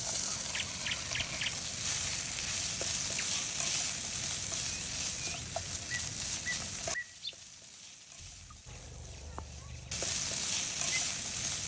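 Chopped beef sizzles steadily in a pan with oil, coriander powder and chili powder, a constant close frying hiss broken by a short quieter dip and soft stirring scrapes.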